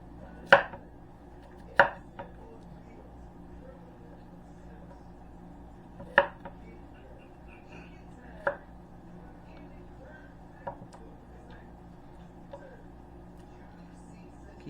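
Potatoes being chopped with a knife on a cutting board, five or six sharp separate knocks spaced a few seconds apart over a quiet room, close by.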